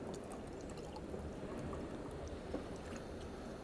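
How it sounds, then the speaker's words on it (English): Water pours steadily into a glass until it reaches a fill mark, a faint continuous trickling splash with no voices. "he also has to fill that glass up to the mark"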